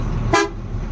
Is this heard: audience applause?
no